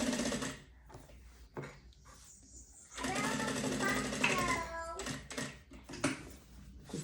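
A sewing machine stitches during suitcase assembly, running in short bursts and then a longer steady whir with brief stops, while a person talks nearby.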